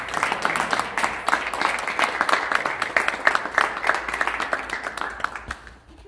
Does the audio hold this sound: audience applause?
yes